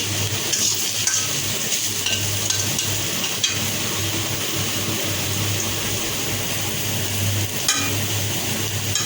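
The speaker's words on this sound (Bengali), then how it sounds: "প্রায় হয়ে গেছে আলুগুলা ভাজা" Potatoes fry in a pan while being stirred, a steady close sizzle with scraping and stirring noises running throughout, no voices.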